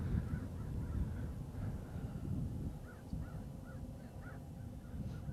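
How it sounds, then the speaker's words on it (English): Distant crows caw repeatedly in loose bursts over a low, rumbling outdoor background in deer hunting country. "turkeys are yelping, crows are getting after it"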